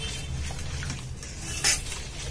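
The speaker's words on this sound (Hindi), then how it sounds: "शुगर मिल्क और ऑयल ये तीनों अच्छे से मिक्स कर लेंगे" Sugar, milk and oil being whisked together in a bowl for an eggless marble cake, a close, continuous swishing and scraping of the utensil with one sharper clink near the end, and no voices.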